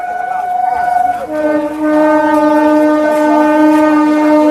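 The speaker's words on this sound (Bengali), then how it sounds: "হাজারদুয়ারি এক্সপ্রেস চলে যাচ্ছে" The Hazarduari Express passes close by near a busy market, its horn sounding loud and sustained, first on one pitch, then dropping to a lower chord that blares steadily over the rumble of the train.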